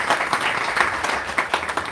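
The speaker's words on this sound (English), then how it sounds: "I think we all should give him a big round of applause." An audience giving a round of applause at a spiritual satsang talk, dense steady clapping from a crowd filling the moment, fairly loud and continuous.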